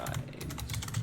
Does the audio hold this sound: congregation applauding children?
no